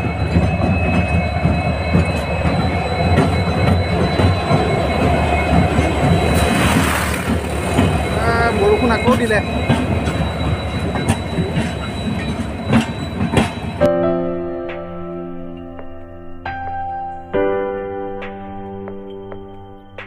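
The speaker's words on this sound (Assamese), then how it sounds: "এয়া আমি ৰেল লাইনৰ কিনাৰত, এয়া ট্ৰেইন গৈ আছে" A train runs past close beside a railway line on a rainy day, loud rumbling and clattering wagons for most of the stretch, then thinning to a quieter rhythmic clack with squeals as it moves away.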